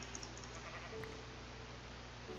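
A sheep in the Minecraft video game gives a bleat, heard faintly over a low steady background with no talk.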